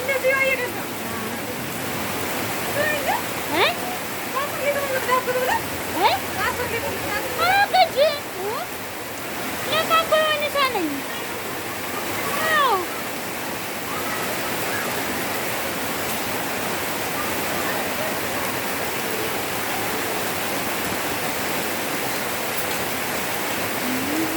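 Steady rain falls in a dense, even hiss that runs the whole time, with scattered short chirping calls standing out above it in the first half.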